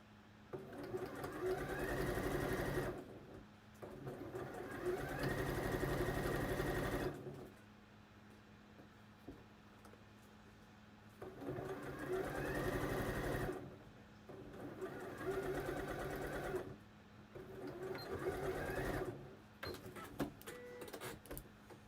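A sewing machine stitches a Kielo wrap dress in three bursts of steady, fast whirring, separated by quiet pauses, close and clear with no talking.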